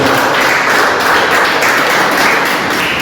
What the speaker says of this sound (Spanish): Ese aplauso es para Cristo.